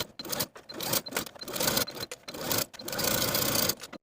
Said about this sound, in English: we're going to sew them once again from the bottom to the end of the sleeve with a 1/4 inch seam allowance